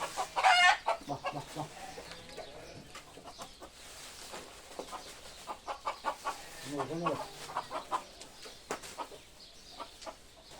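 Chickens in a farm coop at feeding time, clucking and squawking in irregular bursts close by, with a louder cackle near the start and another around the middle, under some faint human voices.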